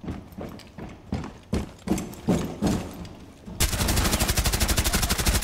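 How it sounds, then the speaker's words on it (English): Gunfire in Rainbow Six Siege: a string of separate sharp shots at an uneven pace, then a sustained rapid automatic burst that stays loud to the end. "I accidentally shot them with bullets"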